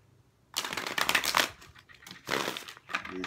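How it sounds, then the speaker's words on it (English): A deck of unusually wide, thick tarot cards shuffled by hand in a few close, crisp bursts of riffling and sliding after a short silence, with no talking. "let me just shuffle one more time"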